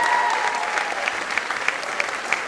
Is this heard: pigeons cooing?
no